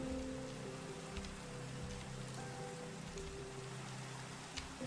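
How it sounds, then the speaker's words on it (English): Rain starting in a video game, a steady soft patter of drops over a low hum and faint sustained tones, continuous and fairly quiet. "So now let's pretend the rain just started."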